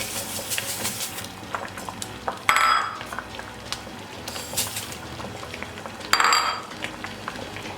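Carrot kheer, thickened and sweetened with sugar, bubbles as it boils in a pot: a steady, close simmering crackle with two brief louder bursts of bubbling, and no voices.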